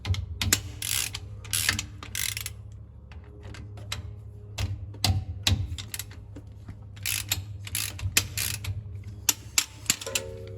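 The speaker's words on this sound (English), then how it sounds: "so we'll go with the ratchet" A hand ratchet working small thread-locked bolts loose on a Ram truck during differential and driveline maintenance, clicking in quick bursts with pauses and sharper metallic snaps between, close up over a low steady hum.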